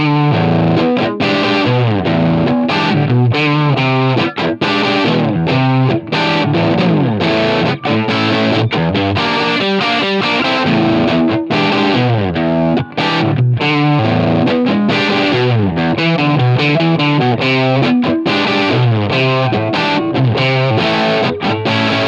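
Heavy distorted electric guitar riff, dense and continuous with chorus-like effects, moving from upper-register lines down to low chunking, loud and sustained with no voices.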